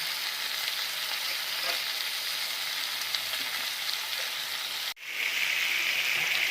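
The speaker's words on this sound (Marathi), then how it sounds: "हळद मीठ टाकून आपण व्यवस्थित हलवून घेतलेले" Vegetables fry in a pan with turmeric and salt while being stirred, a steady close sizzle that breaks off briefly near the end and then returns brighter.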